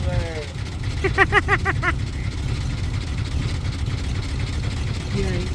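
An engine idles after being fired up, a steady low rumble running throughout, while a person speaks briefly over it and a short tonal chirp rises above the drone.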